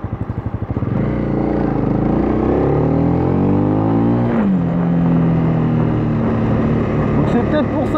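A Honda CB300R single-cylinder motorcycle engine drops from a loud, high rev into engine braking and settles to a lower steady drone, with someone talking over the engine throughout.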